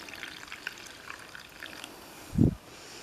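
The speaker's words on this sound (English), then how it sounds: "I'm going to pour some water in" Water is poured into a tub mixed with dish soap for cleaning feathers, giving a faint trickling sound followed by a brief, low splash near the end.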